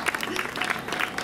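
Brief clapping from the crowd at an outdoor music show at a village festival, a lively patter of hands with voices mixed faintly underneath.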